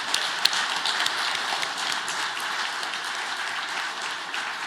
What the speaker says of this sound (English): So a round of applause to Jimmy Mitchell.